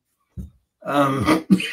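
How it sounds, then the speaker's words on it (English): A person coughs and clears their throat up close, a short raspy burst followed by a rougher, drawn-out hack. "it's this cough"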